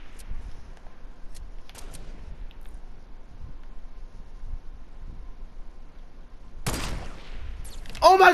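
Sniper rifle gunfire in a video game: a couple of sharp, loud cracks separated by quieter stretches of game ambience, with a player's voice present.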